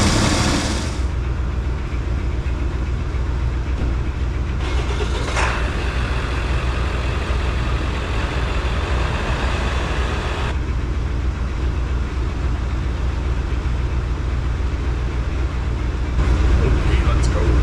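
A 1980 Cadillac Deville engine runs after its first start of the year, a loud, close, continuous low rumble that holds steady throughout.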